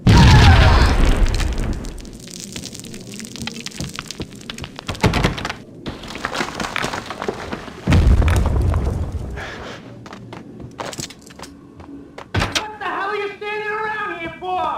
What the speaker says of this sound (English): They're bombing us!